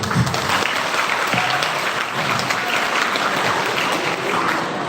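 An audience at a university briefing session for student community service claps steadily, a continuous even patter of many hands at moderate loudness with no voices on top.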